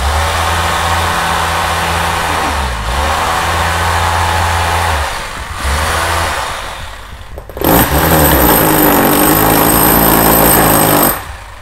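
A hammer drill vibrates wet cement in a bonsai pot mold, a loud, steady rattling buzz that pauses briefly twice, then resumes more harshly for several seconds before stopping.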